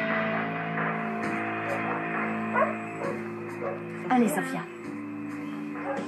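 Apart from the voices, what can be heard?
frightened shelter dog whimpering and barking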